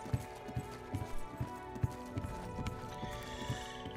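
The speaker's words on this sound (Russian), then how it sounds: "Единственная по-настоящему красивая лошадка." In the video game Oblivion, a horse's hooves clip-clop in a steady, evenly spaced rhythm, close and moderately loud, with a faint whinny mixed in.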